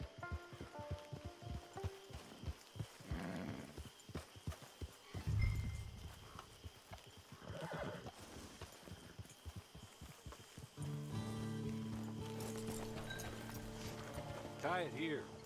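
Horse hooves clip-clop in Red Dead Redemption 2 near a camp, with irregular hoofbeats under talk, followed by a steadier stretch with music.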